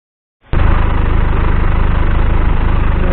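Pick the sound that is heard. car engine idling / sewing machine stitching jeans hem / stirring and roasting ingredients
car engine idling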